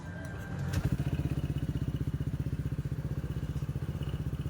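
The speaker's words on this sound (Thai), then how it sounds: "มาฟังเสียงสตาร์ทเครื่องกัน" A Honda PCX 160 scooter with a reset, remapped engine control unit starts up after a brief crank, then settles into a steady, close, evenly pulsing idle.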